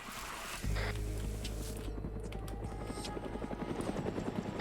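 A Hind attack helicopter in the military game Arma 3 roars loudly overhead, its deep rotor thump pulsing rapidly and steadily under a broad rushing wash of engine and wind noise.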